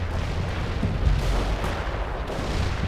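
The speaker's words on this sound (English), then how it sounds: "Artillery barrage hit for full effect." Dense, continuous rumble of an artillery barrage in the World in Conflict real-time strategy game, heavy low booms overlapping steadily with one stronger impact near the middle, loud and without talk.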